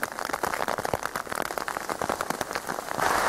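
Steady rain falls outdoors during a lichen foraging shoot, its dense patter continuous and close, with a few louder drops striking nearby surfaces and no voices.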